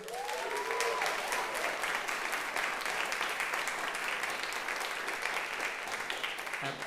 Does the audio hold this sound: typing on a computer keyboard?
no